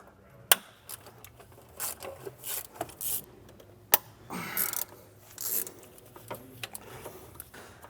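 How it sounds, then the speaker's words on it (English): On a BMW N55 engine, a quarter-inch-drive swivel ratchet works an E10 oil filter housing bolt between the intake manifold and housing, giving faint, irregular ratcheting clicks, scrapes and a couple of sharp metallic knocks at close range. "I'm going to start removing our oil filter housing bolts using a 1/4 inch drive E10 swivel"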